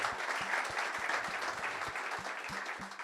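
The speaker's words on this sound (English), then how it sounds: "So I think a round of applause for those guys for coming through." An audience at a celebration event applauds former participants, a full, continuous round of clapping that holds at an even level throughout.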